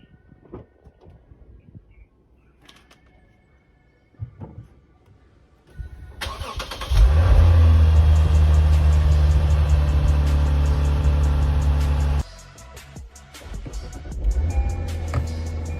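After a few quiet seconds of faint clicks, a Lexus car engine fitted with a new intake cranks and starts, then holds a loud, steady idle before the revs drop and rise again, heard from close by.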